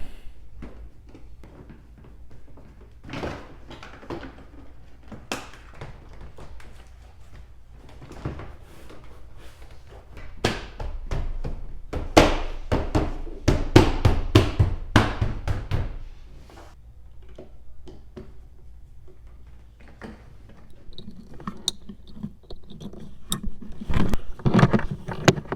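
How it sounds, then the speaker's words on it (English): A Subaru front door panel is pushed back into place, with scattered plastic clicks, knocks and heavier thumps of clips seating, close and irregular, louder in a cluster of firm presses midway and again near the end. "Let's go ahead and get our door panel back on."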